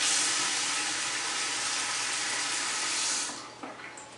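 A kitchen sink tap runs in a steady, fairly loud hiss of water that tapers off near the end.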